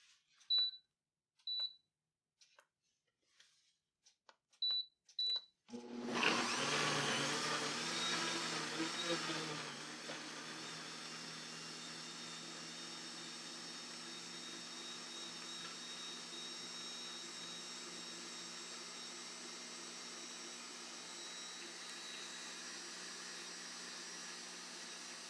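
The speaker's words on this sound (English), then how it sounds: "We will blend" A few short beeps, then a loud blender blending tomatoes for sauce whirs up, roaring steadily and close for about twenty seconds without stopping.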